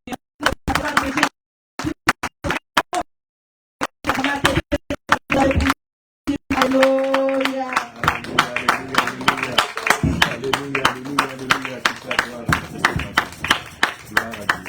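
A church congregation at a midweek intercession and deliverance service claps and acclaims, sharp scattered claps at first, then a steady rhythmic clapping with singing and voices over it, fairly close and lively.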